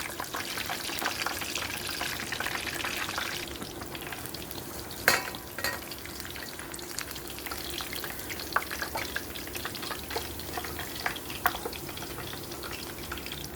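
Pork belly for crispy siew yoke deep-fries in oil with a steady bubbling sizzle, broken by occasional sharp pops and spatters, close and with no talking.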